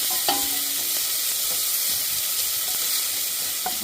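Pasta with salt and green chilies is stir-fried in a pan, sizzling steadily and close by, with occasional soft scraping taps of stirring.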